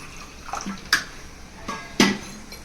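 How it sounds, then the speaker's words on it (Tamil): Water poured out for washing in an outdoor village cooking setting, heard as several separate splashing pours, the loudest near the end, with quiet gaps between them. "தண்ணியை ஊத்தி கழுவி கழுவி உள்ள ஊத்த போறோம்"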